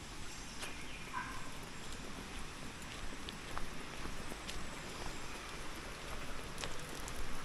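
A natural spring runs with continuous splashing and trickling water, close and steady, with scattered drip-like taps and no voices.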